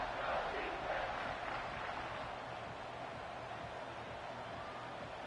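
A stadium crowd at a football game roars during a big third down, a steady, distant wash of cheering that holds evenly throughout without standout shouts or talk.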